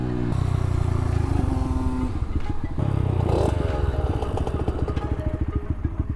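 A Honda Grom motorcycle lapping a race track, its small engine buzzing loudly and continuously with rising and falling revs and a faint rattle.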